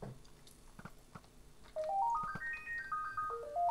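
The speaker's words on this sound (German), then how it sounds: "Hammer, Telefon." A phone ringtone sounds mid-game at home, a rising then falling run of melodic electronic tones that starts partway through and plays loud over faint background noise.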